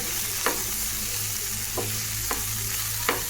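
Samosa potato filling with coriander stirred in a pan, a constant close sizzle and hiss with four spaced scrapes of a spoon against the pan and no voices.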